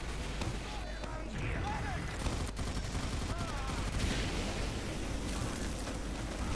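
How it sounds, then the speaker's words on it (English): Grenade blasts and rapid gunfire from a Team Fortress 2 match on the Goldrush map, a dense, continuous barrage of shots and bursts under steady game noise, with a voice talking over it. "Dark Demon, they're using the nades quite nicely"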